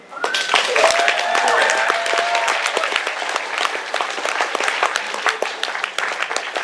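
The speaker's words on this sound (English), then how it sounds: "It is appropriate to applaud now." An opening-ceremony audience at a fan convention breaks into loud applause, dense sustained clapping that swells quickly and carries on steadily, with some voices and whoops mixed in.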